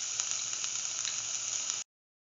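Ash gourd and spinach stir fry sizzles in a pan with a steady, bright crackle and occasional pops, close and continuous, before cutting off abruptly.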